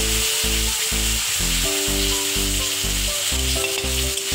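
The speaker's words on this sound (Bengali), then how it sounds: "এবার আমি বেটে রাখা মশলাগুলো দিয়ে দিচ্ছি" Ground spice paste frying in hot oil after bay leaves, dried red chilies and cumin, making a loud, continuous sizzle with stirring strokes and no talking.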